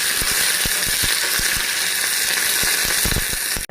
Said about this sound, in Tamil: கடுகு போட்டு கொஞ்சமாக பூண்டு போட்டுக்கிடுங்க. 3 வரமிளகாய், கொஞ்சம் கருவேப்பிலை போட்டு நல்லா வதக்கிடலாம்.